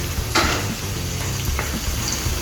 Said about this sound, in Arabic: طبعا سيبنا الزيت دقيقتين لحد ما قدح، ونحط عليه ايه؟ هننزل بالبصل